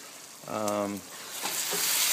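Pork simmering in a pot for tamales gives a steady, close bubbling hiss, with a short humming tonal sound early on and a few soft knocks later.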